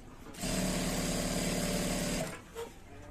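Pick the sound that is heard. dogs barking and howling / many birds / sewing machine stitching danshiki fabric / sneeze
sewing machine stitching danshiki fabric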